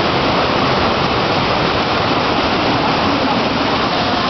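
Water pours heavily from above in a steady, loud, unbroken rush, like a waterfall, with no pauses.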